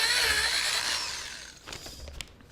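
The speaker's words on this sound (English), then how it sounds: "I need to drill stuff." A power drill whines loudly for over a second, then spins down and stops, leaving faint clicks and handling noises.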